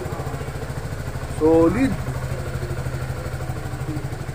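A QJMotor Fortress 400 scooter idles through its stock muffler with a steady, even low engine chug, close and continuous, while someone speaks briefly over it.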